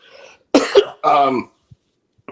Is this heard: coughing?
yes